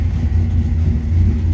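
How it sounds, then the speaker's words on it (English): A 1957 Chevrolet Sedan Delivery street rod engine running with a deep, steady low rumble, loud and close, without any distinct revving. "Let's fire this up. You gotta hear this. This vehicle sounds good."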